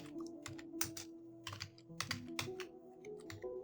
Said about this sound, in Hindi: चलिए मैं अपने डेटाबेस का नेम टाइप कर लेता हूँ।